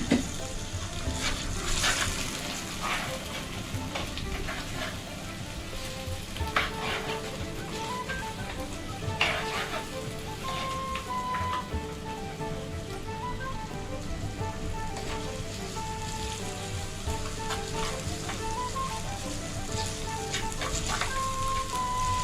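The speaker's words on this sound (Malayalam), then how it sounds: "മുളക്, കറിവേപ്പില നന്നായിട്ട് വഴന്ന് വരട്ടെ" Dried chillies and curry leaves sauté in a pan with a continuous, even crackling sizzle like light rain, close and steady throughout, with faint tonal sounds in the background and no talking.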